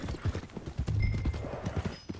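A horse trots in Red Dead Redemption 2, its hooves clip-clopping in a quick, uneven rhythm at moderate distance. A brief whinny-like tone rises over the steady hoofbeats, and no one speaks.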